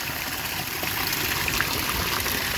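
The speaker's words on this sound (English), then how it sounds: "Flying around, playing in that waterfall." Steady splashing water from a small waterfall pouring into an outdoor pool stocked with koi, a continuous broadband rush at moderate level with no voices.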